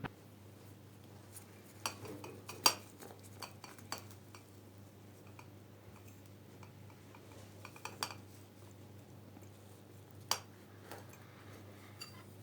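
Sticks are pressed into the mouth of a glass jar packed with brined grape leaves and salt in a kitchen. Sparse, faint clinks and ticks sound at irregular moments over a quiet background.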